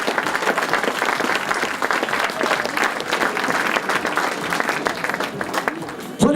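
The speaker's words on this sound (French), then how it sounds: "les applaudissements du public" Sustained audience applause at a rally podium prize ceremony, the Rallye Plaines et Vallées, dense steady clapping from a crowd throughout, with an announcer's voice faintly underneath.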